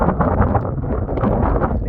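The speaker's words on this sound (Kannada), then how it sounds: "ಇಲ್ಲಿ ನಿಂತ್ಕೊಳಕ್ಕೆ ಆಗ್ತಿಲ್ಲ ಅಷ್ಟು ಗಾಳಿ ನುಗ್ಗುತ್ತೆ" Strong, steady wind roars and buffets on a mountain trek at Etthina Bhuja, a dense rushing noise with gusty surges close to the microphone.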